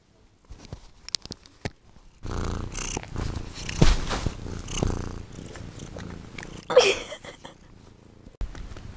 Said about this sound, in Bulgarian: Тази котка сама се настани тук.